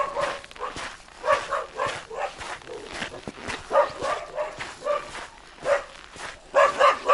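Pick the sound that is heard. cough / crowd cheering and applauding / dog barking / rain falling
dog barking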